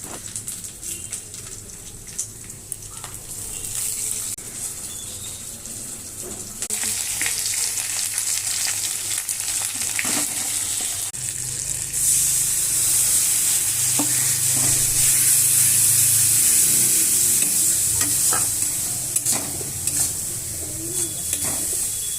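Onions sizzle and fry in a pan with cumin, turmeric, chili powder and ginger for a fish curry, a continuous hiss that swells louder midway, with occasional stirring scrapes.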